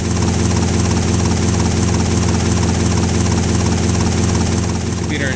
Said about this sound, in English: you get around really fast with the helicopter